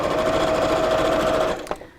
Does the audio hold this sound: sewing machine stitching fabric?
yes